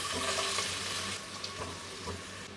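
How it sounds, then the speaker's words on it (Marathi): Onion dropped into hot oil in a pot, giving a loud, steady hiss of frying that eases slightly and carries on close by for a few seconds. "तिथे भांड्यामध्ये ना मी तेल सुद्धा तापून घेतलेलं आहे। आता यामध्ये आपण कांदा घालूया"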